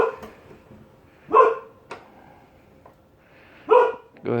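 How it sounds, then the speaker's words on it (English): Several loud barks from dogs outside a house on a winter day, spaced irregularly with brief yips between them, fairly close over an otherwise quiet setting. "Oh, dogs are going crazy outside,"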